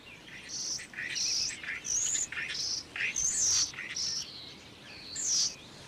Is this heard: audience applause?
no